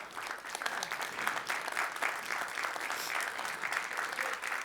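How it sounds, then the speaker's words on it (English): A college audience at a State of the College address applauds partners from Jamaica, a continuous, even wash of many hands clapping, moderately quiet and heard from a distance. "give a round of applause for two of our partners, representing Jamaica"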